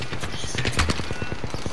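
Rapid gunfire crackles in Apex Legends, a burst of closely spaced sharp shots in steady rhythm, loud and near, running through the whole short stretch.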